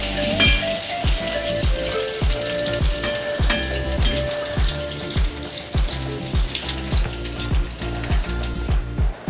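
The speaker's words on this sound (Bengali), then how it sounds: "আলুগুলো লাল লাল করে ভেজে তুলে নেব" Potatoes frying in oil left over from frying dhoka lentil cakes, a loud continuous sizzle with regular clinks and scrapes of a spatula stirring the pan.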